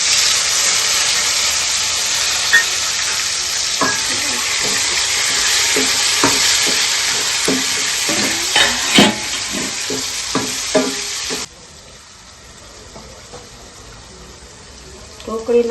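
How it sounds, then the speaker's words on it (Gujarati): Mustard seeds, asafoetida, curry leaves, green chilies and tomato sizzle in hot oil for a dhokli tempering, a loud steady hiss with stirring clicks and spoon taps, dropping to a quieter simmer near the end. "ઢોકળી વઘાર દઈએ. આપણે રાઈ નાખી દઈએ, પછી નાખી દઈએ થોડી હિંગ."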